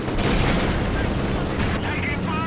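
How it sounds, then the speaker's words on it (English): An artillery gun fires in Company of Heroes 2 amid a busy battlefield of booming shots and rattling gunfire, a continuous loud barrage with a voice speaking over it. "My artillery gun shooting at some of this is more important."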